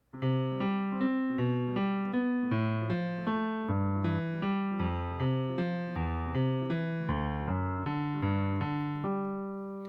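Piano playing a steady broken-chord pattern, notes rolling up and down in even eighth-note rhythm, clear and close with no voices.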